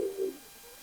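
A Pakistani female pigeon gives a single short, low coo, fairly close and clear, fading into quiet room ambience.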